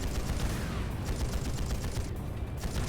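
Rapid, dense gunfire in The Legend of Heroes: Trails of Cold Steel battles a railway gun, crackling in fast overlapping bursts that keep going throughout at moderate loudness, with no voices on top.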